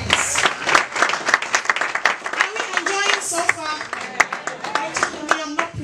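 A church congregation claps for Jesus during a sermon, a dense, sustained round of hand claps with scattered voices and cheers mixed through it.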